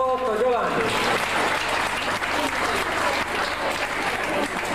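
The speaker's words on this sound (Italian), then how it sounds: "Un bel applauso per Giovanni." Applause for a prize winner at a 1995 amateur race event in Sardinia: dense, loud crowd clapping throughout, with a voice briefly heard near the start.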